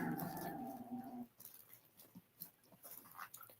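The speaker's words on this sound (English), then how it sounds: "when the dogs play, they have to make so much racket" Playing dogs let out a drawn-out whining vocalization, followed by scattered soft scuffles and yips, all fairly quiet.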